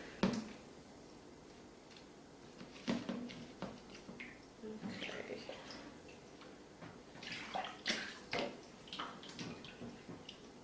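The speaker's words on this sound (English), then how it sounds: "just give them a real good swishing around in the water whenever you put them in there" Vegetables are swished around in a sink of water, producing irregular splashes, sloshes and drips at close range, with soft clunks between.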